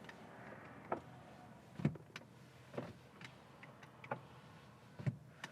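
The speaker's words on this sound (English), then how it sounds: "So windows." Power windows on a 2006 Chevrolet Corvette operate, producing a series of faint, brief motor and clicking sounds, about five separate bursts, quiet and close with no talking.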